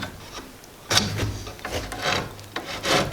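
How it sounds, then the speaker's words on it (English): Cheap tile-cutting hacksaw notching the nocks of a hickory board bow, heard close up as a few short, uneven rasping strokes with brief pauses between them. "I just bought a cheap hacksaw, and this is for cutting tile. And this quickly cuts in some nocks as well."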